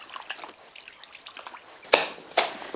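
Raw chicken legs rinsed under water, with soft trickling and dripping followed by two sharper splashes close to the mic.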